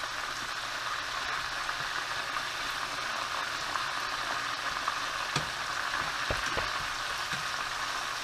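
Chicken wings frying in a pan make a steady, continuous sizzle and crackle with faint pops and a few brief sharper knocks. There is no talking, and the sizzle stays at a moderate, even level throughout.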